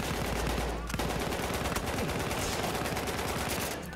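Sustained gunfire and weapon detonations in Battlefield 1, loud rapid bursts of shots layered over dense battle noise, with a brief break before the firing resumes steadily.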